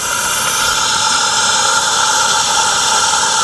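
A self-built, kit-made garden railway engine rated at 40 horsepower runs steadily, giving a loud, continuous hissing roar with a broad mechanical drone that holds level throughout, no talk over it.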